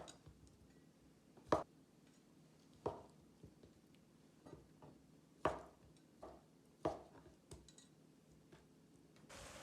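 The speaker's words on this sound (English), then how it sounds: "Now cut the tofu cutlet in the strip." A knife slicing a tofu cutlet into strips on a cutting board, giving sharp, well-spaced chops roughly every second or so, close and crisp against a quiet kitchen background.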